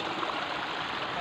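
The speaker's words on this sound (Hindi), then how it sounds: "एक नंबर पानी निकल रहा है यहाँ से।" Clear spring water pours steadily from an outlet in a village park, a continuous broadband rushing like a small waterfall, close and even throughout with no other sounds.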